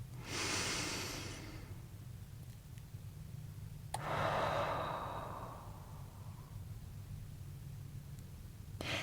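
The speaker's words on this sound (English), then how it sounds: "join me in taking a breath" A single deep breath during meditation: a long, soft inhale then a slow sighing exhale, close and quiet over a low steady room hum, with no talking.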